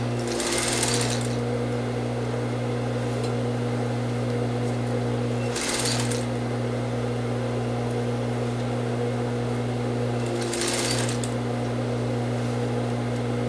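A sewing machine stitching a seam slowly, its motor whirring in a steady hum broken by three short bursts of faster running, close and loud, with no talk.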